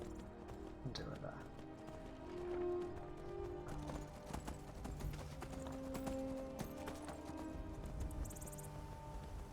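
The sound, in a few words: horse galloping in video game Skyrim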